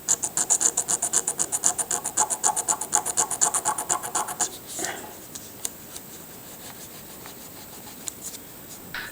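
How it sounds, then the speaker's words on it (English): Cubic zirconia rubs hard across synthetic sapphire in a gemstone scratch test, giving a fast rhythmic rasping of repeated strokes that stops abruptly, leaving quieter scattered scrapes. "cubic zirconia is leaving plenty of chalky residue on the surface of the synthetic man-made sapphire, but it's clearly just rubbing off"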